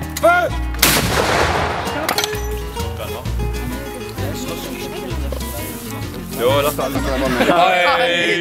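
A sharp crack of rifle volley gunfire near the start, then a busy mix of voices, clinks and rumbling noise, with another burst of activity later, at a battle reenactment in Spicheren.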